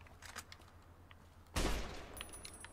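A marksman carbine fires single shots in Fallout: New Vegas. One sharp, loud report punches through a quiet background of soft ambient noise, followed by a faint lingering tail.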